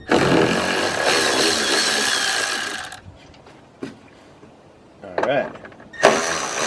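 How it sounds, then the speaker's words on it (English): A Milwaukee power tool removes small bolts during a radiator install: a loud, sustained mechanical whir for about three seconds, then quiet, then two short sharp bursts, with a person talking nearby. "Got my little Milwaukee tool, which I like."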